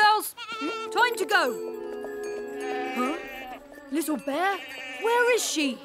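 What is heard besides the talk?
goat bleating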